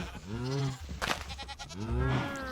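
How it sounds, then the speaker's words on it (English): Goats in Minecraft bleat in drawn-out, wavering cries, two distinct calls with a clatter of game sounds between them, close and clear inside a hardcore-mode enclosure. "Yep, here's the goats."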